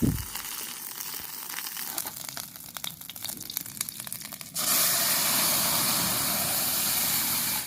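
Boiled papaya and moong dal drop into hot mustard oil, setting off a sudden loud, steady sizzle that fills the rest of the clip after a quieter stretch of crackling and stirring.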